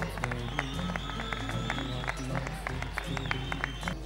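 A scattered audience claps at the Scout Festival 2011 awards ceremony, a loose patter of individual hand claps mixed with crowd murmur and some talking, fairly quiet and distant.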